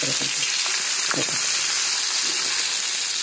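Stuffed masala okra sizzles in a hot flat pan, a steady loud crackling hiss, with someone talking quietly under the frying.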